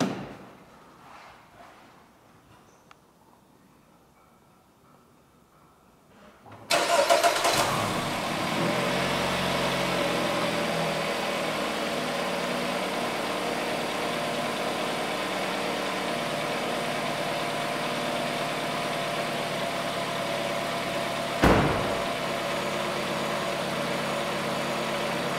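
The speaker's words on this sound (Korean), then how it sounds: "시동을 걸고 제가 보여드리도록 하겠습니다." A 2017 Jeep Renegade 2.4 gasoline compact SUV with automatic transmission cranks after a quiet lead-in, catches abruptly, and settles into a steady, close, even idle, with one brief louder blip near the end.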